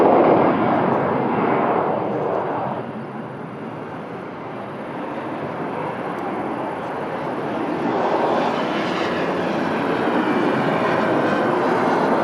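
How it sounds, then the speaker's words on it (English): An airliner roars steadily while landing at Lisbon Airport. The broad, loud jet rumble dips slightly midway and swells again, with no voices. "Oh, okay, the plane already landed"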